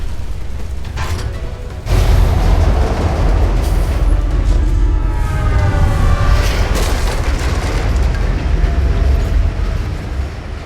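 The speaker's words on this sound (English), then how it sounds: "Think you can dodge a train?" In the video game Alpha Protocol, a train rushes past with a loud, sustained roaring rumble and rattling wheels that swell suddenly and carry on for about ten seconds.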